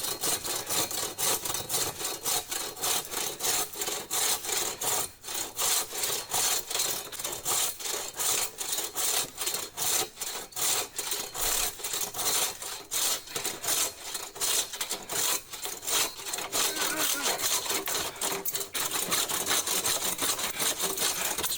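Hand saw cutting through scrap wood while trimming a shed floor, with quick, steady back-and-forth strokes that rasp continuously at close range and never let up.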